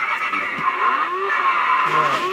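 A children's rechargeable electric toy bike plays an imitation motorbike engine effect, a loud whining, revving tone with sweeping pitch glides, close by and continuous.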